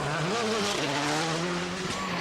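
A WRC rally car at full throttle sliding through a forest stage at Rally Finland 2005, engine note rising and falling with wheelspin and gravel noise, loud and close throughout.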